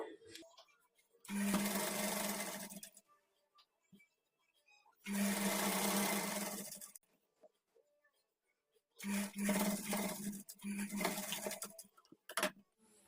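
A sewing machine stitches the bottom hem of a kurti in three loud, steady runs of a few seconds each, separated by short pauses, close up with no talking.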